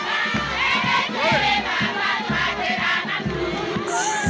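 A large crowd of residents and young people at a school-year opening ceremony in the Ouaka prefecture shouts and cheers in rhythmic waves of chanting, loud and close, with a brief whistle near the end.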